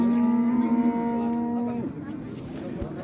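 A single cow gives a long, steady low moo that cuts off after a couple of seconds, amid the background murmur and bustle of a cattle market in Shymkent.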